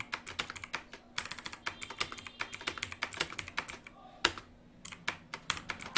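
Someone types on a computer keyboard while entering Bengali text, a close run of quick uneven key clicks with short pauses and a few heavier space bar presses, with no talking.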